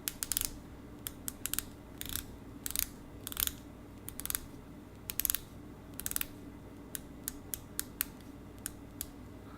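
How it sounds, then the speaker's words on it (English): Turning the 60-click bezel of a Monta Oceanking watch produces crisp, close ratcheting clicks, some single and some in quick clusters, sharp and isolated over a quiet background. "it is an amazing 60 click bezel"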